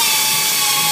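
A polishing buffer with a wool pad whirs against the clear coat of a bumper cover, giving a loud, steady high-pitched motor whine close by for the whole moment.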